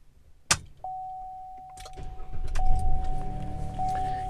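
A car being switched on: a sharp click, then a steady electronic tone and a rising engine or fan hum, with further clicks and a second chime near the end, moderately loud and with no speech.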